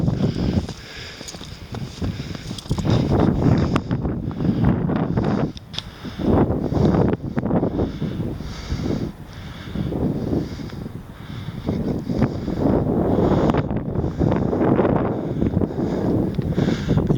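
At night on a snow-covered hill near trees, wind gusts across the microphone in uneven buffeting rushes that rise and fall steadily throughout.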